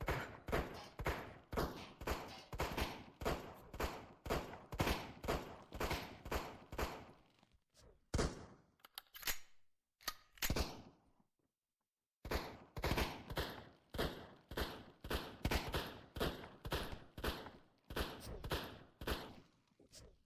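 Handgun gunfire in the VR game Brutalistick, a long run of evenly paced punchy shots, close and loud, broken by a brief pause of scattered thuds and silence before rapid firing resumes.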